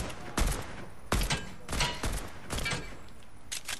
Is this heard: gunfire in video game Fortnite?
yes